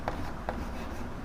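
Pen or chalk writing by hand, a soft scratching stroke with a few light taps, close and steady over a short moment.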